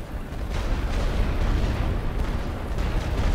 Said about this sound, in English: Still bombarding them heavily.